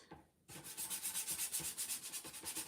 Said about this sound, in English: the edges with some sandpaper. All the way around the outside.